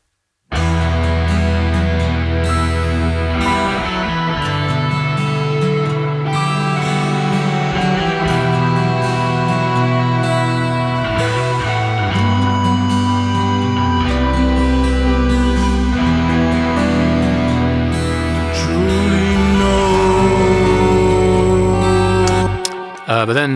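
A guitar lead plays in a dense, loud rock mix of a song, continuous full-band music with sustained melodic lines over heavy low end for the whole stretch.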